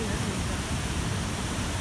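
Devi's Fall, a waterfall near Pokhara, Nepal, roars as a steady, dense broadband rush of falling water that fills the whole clip without pause.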